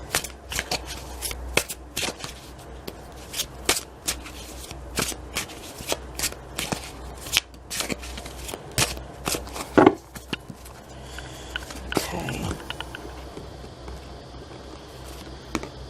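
Tarot cards shuffled by hand in a long run of quick, crisp riffles and slaps, close and fairly steady, with brief pauses and a couple of louder handling sounds near the end; no talking.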